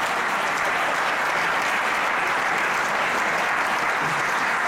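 A crowd at a racing trophy presentation applauds the winners, a continuous, dense roar of clapping held at a steady loud level throughout, with no talking on top.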